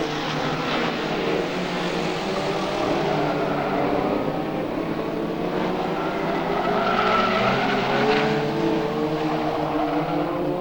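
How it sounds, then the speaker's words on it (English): Stock cars race around the Arena Essex oval during an evening final, engines roaring loud and continuous for several seconds with occasional tire squeal, no voices over them. "He's already leading the third race of the evening, the final, with 3 laps left to go."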